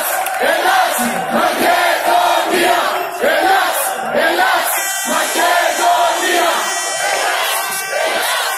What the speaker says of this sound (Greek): υπάρχει πολύ μεγάλο πλήθος εδώ